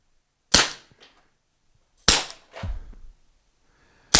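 A paintball marker, a Tippmann TiPX or Sabre S7 losing pressure through a leak, fires sharp close pops: one crack, then a second shot followed by a short rumbling tail, and a third pop at the end.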